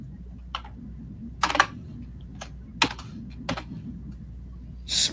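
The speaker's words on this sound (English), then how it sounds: "Smashing keyboard of typing." Scattered computer-keyboard keystrokes tap out in irregular bursts over a low steady hum, fairly quiet and close, during a tabletop role-playing game session, with no one speaking.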